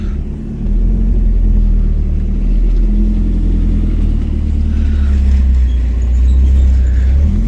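A car's engine, the CFX01, idles and rumbles steadily as its clutch engages about halfway, a loud low drone that lifts slightly after the first second and holds, with no talk.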